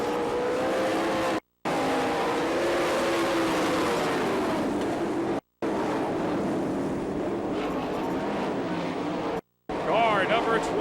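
Sprint cars racing on a dirt oval at an All Star Circuit of Champions event in Florence, Kentucky, a steady loud roar of engines revving and droning, with the pitch rising and falling as cars pass.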